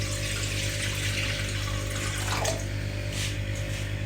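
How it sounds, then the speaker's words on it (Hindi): Water from two glasses poured into a cooking pot over a lit flame while making almond sharbat, a steady continuous splashing pour lasting a few seconds, with no talking. "अब हम इसमें ये पानी शामिल करते हैं"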